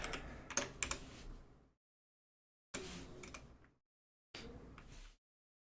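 Someone types code on a computer keyboard in three short bursts of rapid, close clicking separated by silent gaps.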